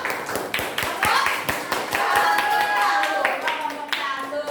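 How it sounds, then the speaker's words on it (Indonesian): Classmates clap for a student group after its presentation in a classroom, a short burst of sharp, uneven hand claps over about four seconds, with a voice speaking under them. "tepuk tangan dulu dong untuk kelompok"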